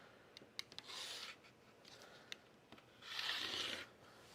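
Scissors cut through a piece of fabric yardage at a sewing table, giving quiet rasping snips in a few short bursts with brief gaps between them, faint and close.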